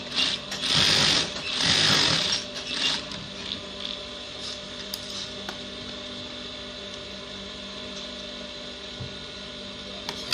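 A sewing machine stitches a trouser's back flap onto the pocket bag, with a louder burst of running stitches near the start, then a steady mechanical hum and occasional clicks.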